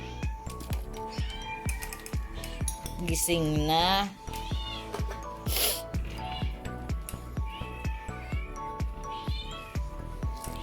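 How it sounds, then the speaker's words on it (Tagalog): A pet cat at home meows repeatedly, several rising, wavering cries close by, with someone talking between them amid clinking and tapping from outdoor cooking. "nakikimiyaw-miyaw-miyaw na rin siya."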